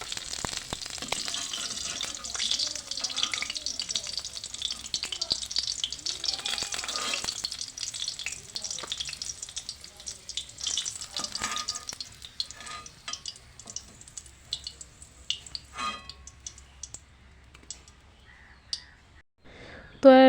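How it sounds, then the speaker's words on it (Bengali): Potato pieces, seasoned with salt and turmeric, fry in oil for a mutton curry, giving a continuous hissing sizzle that is strong at first and thins toward the end, with occasional clinks and pops. "একটু লবণ আর একটু হলুদ দিয়ে হালকা করে আলুটা ভেজে নিয়েছি"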